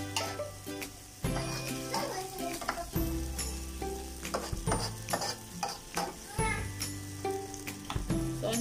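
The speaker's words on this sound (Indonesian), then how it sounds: "Soalnya kita kasih biar dia mendidih dulu ya, biar dia mendidih." Beef curry (gulai daging sapi) with potatoes and palm sugar cooks in a pot, giving a close, steady bubbling sizzle broken by repeated clanks and scrapes of stirring, with no talking.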